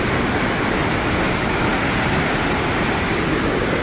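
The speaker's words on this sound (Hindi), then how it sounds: "आप देख सकते हैं बारिश के बाद नदी नाले किस तरह से आए हुए हैं" A swollen mountain stream near the Beas (Vyas) river in Kullu, rushing after heavy rain, a loud, dense, unbroken roar of churning water filling the whole clip, close and steady, with no voices.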